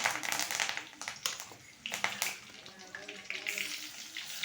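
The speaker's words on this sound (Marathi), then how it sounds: "आता तेल तापलंय आपण त्यात टाकूया जिरे कढीपत्ता" Cumin seeds and curry leaves added to hot oil, giving faint, crackling sizzle bursts under a person talking nearby.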